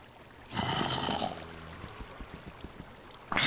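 Water in Minecraft rushes and pours in a loud burst, then gives way to a quieter trickle with soft taps before another surge of flow.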